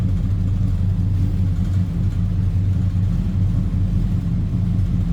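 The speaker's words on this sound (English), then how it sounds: "A little rumble. Sounds good with those headers on this V8 car." A 1970 Oldsmobile Cutlass Supreme convertible's V8 with headers idles close by, a steady low throbbing rumble with an even, slightly lumpy pulse and no voices over it.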